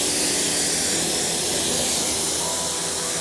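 Water spray rinsing car wheels and tires, a steady loud hiss of pressurized water running continuously and close, with no pauses.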